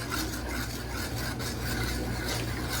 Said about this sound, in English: we are just gonna continue stirring